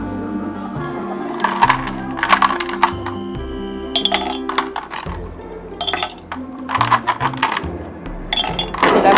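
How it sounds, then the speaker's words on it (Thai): A metal spoon stirring homemade lemonade in a glass, producing repeated bright clinks and rattles against the sides in irregular bursts, close and clear, over a background of steady tonal music. "เสร็จแล้วก็นำช้อนมาคนให้เข้ากันนะครับ"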